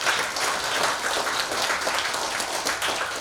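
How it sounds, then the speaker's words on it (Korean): Audience applause at an academic lecture event as the chairman comes out, dense steady clapping from a crowd filling the whole stretch without speech. "회장님 나오실 때 큰 박수를 부탁드립니다"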